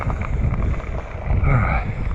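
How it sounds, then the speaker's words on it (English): Wind buffets a microphone during a ride on a lake, giving a loud, continuous low rumble that swells toward the end, with no clear talking. "There's a little bit of wind hitting me in the face right now."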